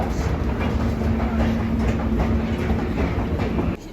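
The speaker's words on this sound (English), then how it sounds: "And there's the monorail." A Moscow monorail train rolls past close by with a steady rumbling roll and rhythmic clickety-clack, loud and continuous before cutting off abruptly near the end.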